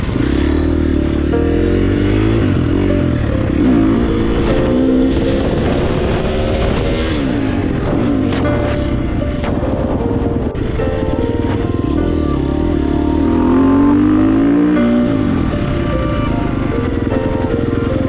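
A Stacyc 12e electric dirt bike is ridden around a lot, with a close, continuous whirring drone that rises and falls in pitch over steady rushing noise.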